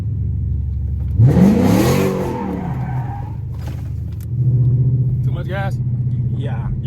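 A Chrysler 300 with a 5.7 Hemi V8 drifting, the engine roaring up through a sweeping rev with tire noise, then a second surge of loud revving, with voices talking inside the car.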